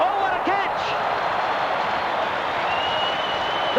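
Football crowd roars and cheers loudly and steadily after a spectacular high mark in a 1984 State of Origin match between Victoria and South Australia, with a commentator's voice riding over the sustained noise.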